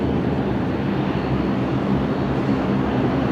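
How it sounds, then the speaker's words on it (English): Qantas 941 airliner departing full length from runway 01 right at Brisbane Airport at night, bound for Perth: a steady, broad engine roar that holds constant, loud and sustained with no talk. "This is Qantas 941 here. This is off to Perth tonight. Departing full length."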